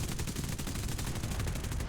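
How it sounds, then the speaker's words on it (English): Rapid, continuous bursts from .50 caliber aircraft machine guns in War Thunder, a dense rattling stream of fire at steady volume throughout. "The 50 cals are actually surprisingly effective."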